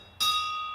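A small church bell is struck once, giving a bright metallic ring that sounds sharply and then sustains, slowly fading.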